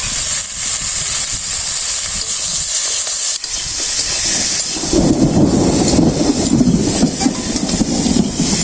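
Loud, deep thunder rumbles across the sky over a steady hiss of rain, swelling into a heavier, sustained roll partway through with no voices.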